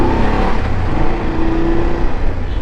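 A new BMW motorcycle on fresh tires being ridden, its engine droning steadily and loudly close by, with rushing wind noise throughout and a slight rise in pitch partway through.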